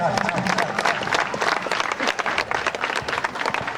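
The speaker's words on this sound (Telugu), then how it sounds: "విద్యార్థులందరూ ఘనంగా చప్పట్లతో స్వాగతించాలి." Students clap loudly and continuously as a crowd at the sports flag hoisting that opens a mandal-level village sports meet. The dense, rolling applause lasts throughout with no break.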